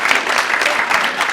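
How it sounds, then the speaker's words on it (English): An audience at a talk on George and Martha Washington applauds loudly and steadily, a close, dense wash of clapping with no pauses. "can we all give some applause to Karen and to Aaron"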